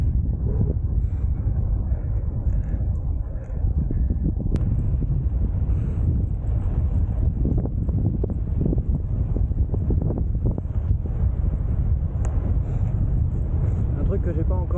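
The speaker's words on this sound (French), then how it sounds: "On a un bon vent du sud." Strong south wind buffets the microphone during a New Year's Day bike ride in France, a steady, low roar with no gaps, rumbling and gusting throughout.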